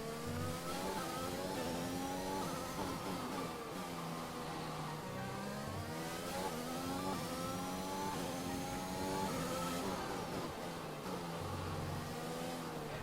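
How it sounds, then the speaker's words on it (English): Formula 1 car engine in the racing game F1 2021, a loud continuous high-revving whine that climbs and drops repeatedly through gear changes and corners, steady and close with no talk. "you can hear how crystal clear the engine sounds are"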